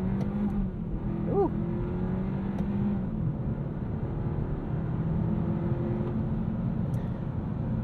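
A 2022 Kia K5's engine pulls hard under acceleration, pitch climbing steadily through a gear change, heard from inside the cabin with a brief voiced exclamation.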